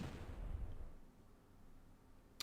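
An artillery bombardment in the wartime strategy game Panzer Corps, a deep rumbling boom at the start that fades into a low tail, then a single faint sharp click.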